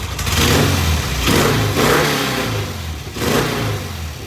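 A vintage British motorcycle engine revs up loudly several times, rising and falling in bursts over a steady running rumble, close by.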